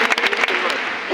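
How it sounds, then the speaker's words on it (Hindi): Audience applause at an RCM anniversary gathering in Delhi for new achievers, a brief burst of mixed clapping with crowd noise that quickly settles into a steady wash. "एक बार ताली बजा दें।"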